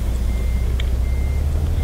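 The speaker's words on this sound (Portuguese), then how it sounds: "Ligou o caminhão." A truck engine idles in the driving game Euro Truck Simulator 2, a loud, steady low rumble that fills the whole stretch, with one brief high beep in the middle.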